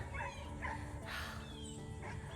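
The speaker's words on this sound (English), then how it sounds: "you're hearing puppies and goats and all kinds of things in the background here" Puppies on a farm yip and whimper in short high cries over a steady, noisy background hum.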